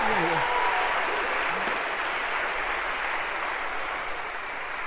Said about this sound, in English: All right, a round of applause for Josh if we could.